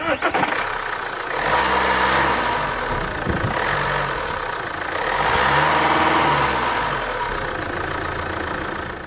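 A 2012 Vauxhall Insignia with a 165 hp 2.0 CDTI diesel cranks briefly, catches and settles into a steady, loud, close clattering idle.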